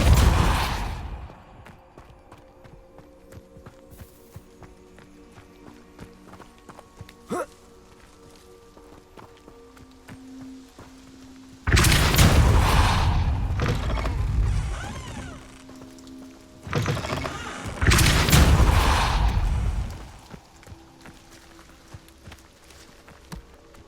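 Depulso force spells fire in the Hogwarts Legacy video game as a few sharp, loud whooshing bursts, widely spaced against quiet game ambience. The last two land close together.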